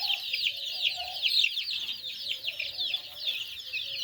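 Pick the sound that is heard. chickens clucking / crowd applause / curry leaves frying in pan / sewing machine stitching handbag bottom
chickens clucking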